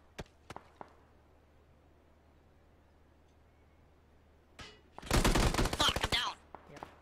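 Gunfire breaks out in an online squad shooter game: a few scattered shots, a long quiet stretch, then a loud close burst of rapid automatic fire with a few more single shots after it.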